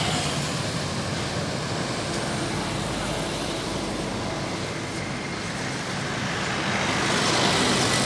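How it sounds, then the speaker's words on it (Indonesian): An Intra bus goes by on a road in Pekanbaru, heard as a broad, continuous roar of engine and tyres that stays fairly loud throughout and swells slightly toward the end, mixed with general traffic noise. "Ini dia ada bus Intra teman-teman."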